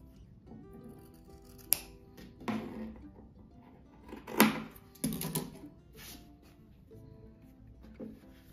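Scissors snip the tips of fabric pieces for a handmade fabric rug, giving a few sparse, quiet clicks and crisp cuts close by over a soft background.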